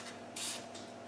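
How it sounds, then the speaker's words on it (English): Short hissing bursts from a spray can, one longer blast between a few quick puffs. "give that a bit of a spray"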